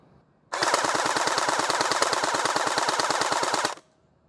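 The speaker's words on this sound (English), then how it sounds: "Now I'm going to do full auto with the stock gel balls." A gel blaster fires full auto with stock gel balls, one loud, steady burst of rapid rattling shots lasting about three seconds, close up, with quiet before and after and no talk.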